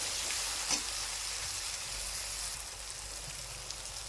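Chopped tomatoes fry with green chillies in a hot pan, a steady close hissing sizzle with faint crackles and no talk.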